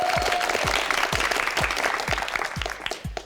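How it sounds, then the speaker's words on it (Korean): A studio audience on a KBS Korean quiz show gives loud, sustained applause, with a regular low thumping beat pulsing underneath the clapping. "박수 보내세요."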